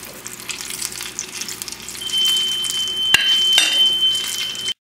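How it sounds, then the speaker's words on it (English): Frozen fish bites deep-fry in a deep fryer with a steady close sizzle that grows louder midway, with a few sharp pops and a thin whistle-like tone, no talking. "when you're frying and you're using frozen fish, there's a chance that the liquid that's still around the fish just pops into the deep fryer"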